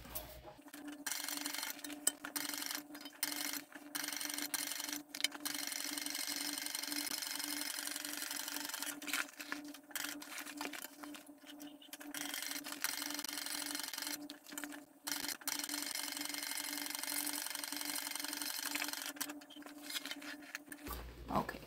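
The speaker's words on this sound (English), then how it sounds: "flip it back over and let's top stitch down the side" A sewing machine top stitches down the side of a tote bag, a steady faint mechanical whir running with brief pauses.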